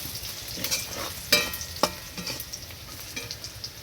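Crab curry is stirred with salt in a pan: quiet scraping and spoon knocks over a low sizzle, with a few louder clatters.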